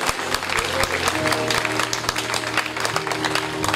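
A church congregation at a worship service applauds to acclaim Jesus, a dense sustained clapping from many hands throughout, with a faint voice and a low instrumental drone underneath.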